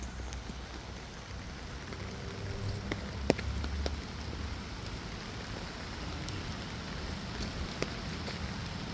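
Outdoor rain falling steadily, a soft continuous patter with scattered sharper drops tapping nearby surfaces, fairly quiet and with no voices.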